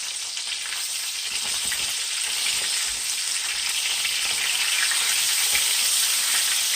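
Gluten-free flounder fillet frying in a pan after being flipped, a steady, close, bright sizzle with crackling oil running evenly throughout and no talking.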